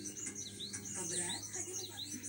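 Songbirds at a roadside coffee stall where bird keepers gather chirp and tweet in quick, repeated high calls, faint against a low evening hum.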